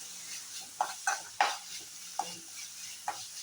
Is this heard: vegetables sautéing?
yes